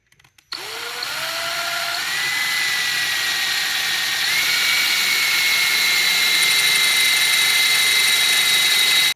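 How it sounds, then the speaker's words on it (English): Power drill boring a small pilot hole for a tapered ball seat in a cap and ball revolver cartridge setup, a steady loud whine that spins up quickly and holds alone throughout with slight pitch shifts. "Let's drill a hole. Now we can use that little pilot hole that we started."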